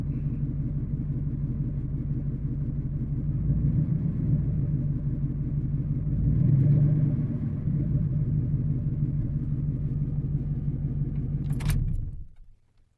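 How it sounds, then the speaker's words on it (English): A car engine with a spark plug misfire idles with a steady low rumble and faint irregular ticking pulses, continuing evenly until it shuts off near the end, with a brief jangle just before. "I can hear a plug misfire, and I can hear it top, top, top, top, top, top"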